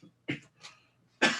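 A person coughs close into a microphone, a few separate bursts: two smaller coughs early on, then one loud, harsh cough at the end, with quiet gaps between.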